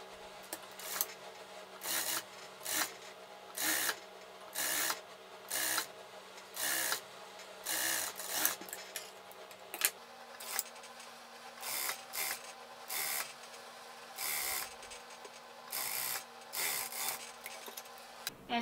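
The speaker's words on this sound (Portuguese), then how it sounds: "Vou lá pra máquina reta, vou dobrar aqui, ó, ao meio, pelo lado avesso, e passar uma costura" A straight-stitch sewing machine runs a seam along folded fabric strips in short, evenly spaced bursts of rapid stitching, separated by brief quiet pauses over a faint steady hum.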